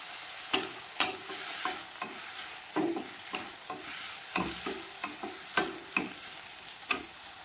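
Tomato and tamarind sautéed in a pan for an eggplant dish, a spoon scraping and stirring in repeated knocks over a steady low sizzle, close and clear.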